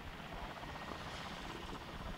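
A helicopter at the Chernobyl nuclear plant in 1986, hauling lead ingots, drones on steadily and fairly faint, its rotor and engine noise a constant wash with no voices.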